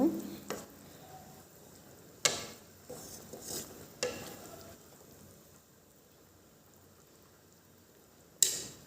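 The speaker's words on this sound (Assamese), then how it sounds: "এনেকৈ অলপ টাইম মই সিজিব দিম, কাৰণ পনীৰখিনি ভালকৈ সিজিব লাগিব" Paneer cooking in a pan for matar paneer gives a soft, steady sizzle, broken by a few sharp clinks and scrapes of a utensil stirring against the pan.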